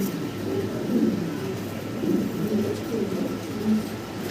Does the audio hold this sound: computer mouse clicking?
no